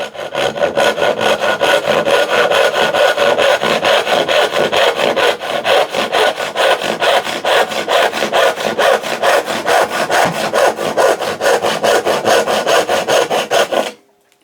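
A hand saw cuts test kerfs in wood while its uneven set is being corrected, giving a steady, rapid back-and-forth rasping at close range for about fourteen seconds before it stops abruptly.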